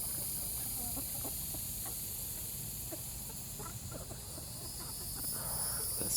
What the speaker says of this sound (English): those roosters do stop the hawks from coming in